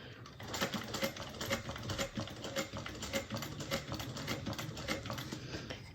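A sewing machine stitching a bag runs in quick rhythmic bursts of mechanical clatter, close and fairly steady with brief pauses between runs.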